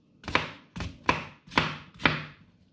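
Five evenly spaced knife chops on a cutting board while preparing gazpacho vegetables, each a sharp close thud with a short tail, no voices.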